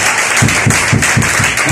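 Church congregation applauding together, a broad steady wash of clapping with a faint pulsing rhythm, loud and close, no voices on top.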